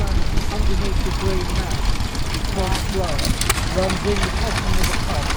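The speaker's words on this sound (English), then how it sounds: "That looks like an Amanco powering a Climax #1 water pump" A small Amanco stationary engine powering a Climax #1 water pump chugs steadily at idle at a steam fair, under a noisy background of crowd chatter.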